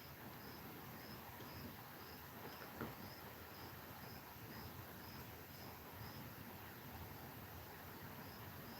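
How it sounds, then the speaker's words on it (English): Crickets chirp softly in a quiet village, a faint steady pulse of high chirps repeating at an even rhythm over a low hushed background, with no voices. "the only noise that you'll hear is the ones that are coming from the crickets"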